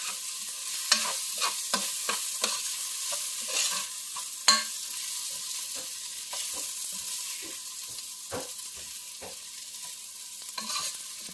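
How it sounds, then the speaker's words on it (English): Garlic, onion and ginger sauté in a hot pan as the first step of a pork and beef blood stew. A steady sizzle runs under repeated stirring scrapes and taps, close and continuous, with no voices. "we're gonna saute that and make sure that it's golden brown"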